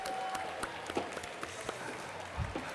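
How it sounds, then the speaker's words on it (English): Spectators at a FIRST robotics district event applaud the AV crew, a faint, distant patter of clapping in a large hall with a few sharper claps and low thumps scattered through it. "Let's give them another round of applause."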